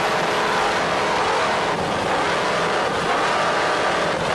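A 39-foot Velocity racing powerboat run by BFI Systems roars past at speed, a dense, loud engine drone with wash noise, steady and without pauses.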